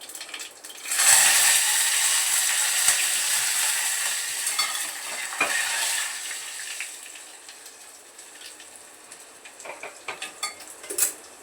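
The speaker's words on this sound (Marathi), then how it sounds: "मस्त लसणात फोडणी बसली" Mustard seeds, cumin, garlic and curry leaves sizzle in hot oil for a paneer dish, a loud hissing fry that starts abruptly, then settles into a steady crackle with scattered spoon scrapes and pan clinks, slowly fading.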